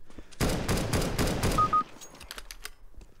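A fast burst of automatic gunfire in CS:GO, loud and close, followed by a handful of scattered single shots and faint clicks as the firing dies down.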